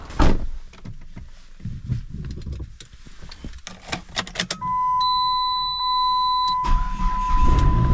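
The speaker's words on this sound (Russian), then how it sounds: "Накачали колесо, сейчас выгоняем кабриолет." A convertible car being driven out of a garage after its tyre was pumped up: low rumbling and clunks, then a steady electronic chime tone for about two seconds before the noise returns.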